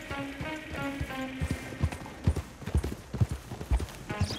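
Horse hooves clip-clop at a steady riding pace in Red Dead Redemption 2, the rhythmic thuds coming close and clear over a faint background of music and ambience.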